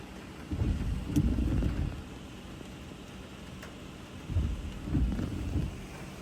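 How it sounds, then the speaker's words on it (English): Heavy rain falls outside a cabin in the mountains as a steady, even hiss, with two stretches of deep, rumbling low-end swells rising over it. "It's raining a lot, and that's no problem."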